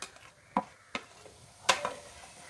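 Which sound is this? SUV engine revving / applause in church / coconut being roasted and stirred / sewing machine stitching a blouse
coconut being roasted and stirred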